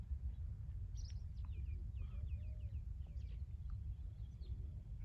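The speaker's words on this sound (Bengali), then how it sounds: "ঘুঘু শব্দ, ঘুঘু আছে, শালিক আছে।" Doves and mynas call outdoors in Bangladesh: a string of short, high, chirpy notes in the middle of the clip, moderately distant, over a constant low background hum.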